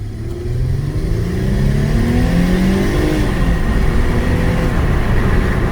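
2011 Mercedes-Benz C300 4MATIC sport with a 3-liter engine accelerating, heard from inside as a loud steady drone with rising engine tones and road noise throughout.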